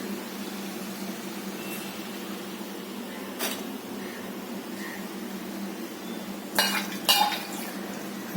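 A spoon stirs and mixes fried potatoes in a pan with scraping clinks against the metal, faint and close over a low steady hum, with a few sharper scrapes toward the end.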